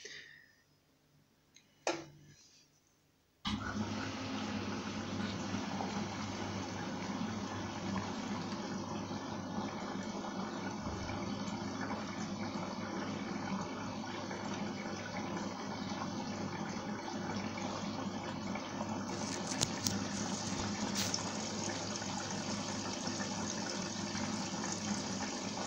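Water rushes steadily into an Arçelik 3340SJ washing machine as it fills on a Delicate 40 wool wash. The even gushing runs for over twenty seconds after a few faint clicks.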